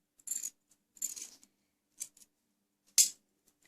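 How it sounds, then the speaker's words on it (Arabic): Scissors snipping fabric on a diagonal: four short, crisp cuts spaced about a second apart, close and quiet, with no voices. "نجي نقص على شكل مائل."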